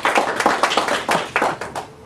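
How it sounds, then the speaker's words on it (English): Audience applause welcoming an author at a lecture event: a handful of people clapping in quick, close, uneven claps over about two seconds that taper off slightly. "Let's give her a round of applause."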